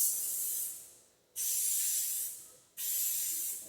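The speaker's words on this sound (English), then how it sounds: "I'm going to protect it a little bit by adding a clear coat." Clear coat is sprayed from an aerosol can onto a rifle chassis in two long hissing bursts with a short pause between them, close and fairly loud, with no talking.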